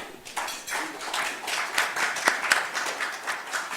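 Audience applause at a literary forum in Korea, a steady wash of many hands clapping with scattered sharper claps standing out, heard alone without speech.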